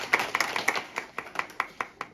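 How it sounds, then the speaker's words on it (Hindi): Seminar audience in Haridwar clapping together in a brief, fairly even rhythm of about a dozen claps, moderately distant and a little soft, with no talk over it. "एक बार तालियां बजा दो।"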